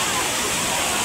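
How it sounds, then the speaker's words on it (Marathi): The waterfall at Bhushi Dam in Lonavala rushes in a loud, dense, unbroken roar close by. "पाऊस नाही धबधबा सुरू आहे"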